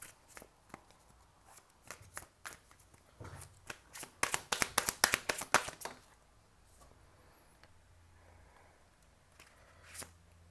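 Tarot cards being shuffled by hand, a quick run of crisp riffling flicks building to a dense flurry of snaps, then quieter handling and soft rustling afterward.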